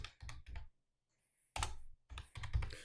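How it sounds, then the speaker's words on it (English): Fingers type on a computer keyboard in several quick bursts of close clicking separated by short pauses, with no talking. "I'm going to type this out."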